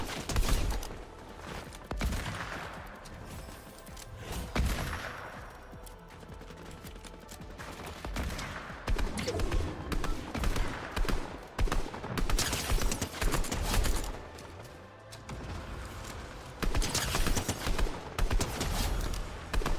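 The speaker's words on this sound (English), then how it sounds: "Striker burst, dude. I love how accurate it is. Even though it shoots slow." Repeated bursts of Striker Burst rifle fire in a battle royale video game, loud sharp volleys spaced a few seconds apart with game ambience between, no talking.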